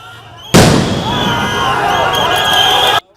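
Police sound grenades going off at a student protest in Shahbag: a sudden loud blast after a quiet lead-in, followed by sustained crackling, popping and rumbling noise with a crowd in the background.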